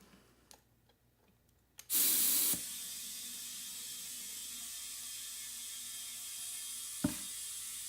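A sharp burst of air suddenly hisses out of leaking fittings on drift spare wheels, then settles into a steady, loud leak, preceded by small clicks and followed by a brief knock.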